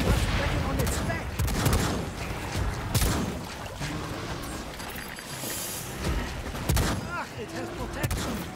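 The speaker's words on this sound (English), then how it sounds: "Throwing grenade." A grenade thrown in the shooter game Second Extinction goes off amid a chaotic fight, with repeated sharp blasts and bursts of gunfire popping loudly across the scene over dense battle noise.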